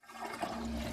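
A toilet flushes, a rising rush of water that builds quickly and holds steady as a close, continuous roar for about a second.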